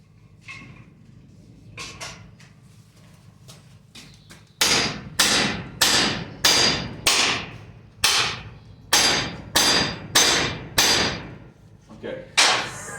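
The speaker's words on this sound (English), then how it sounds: "Let me get a bigger hammer." Heavy hammer blows striking hot mystery steel in a forge, about a dozen loud sharp ringing impacts in a steady, slightly uneven rhythm after a few quieter taps and some low background noise.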